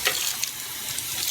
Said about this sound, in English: I want to wash off this lettuce.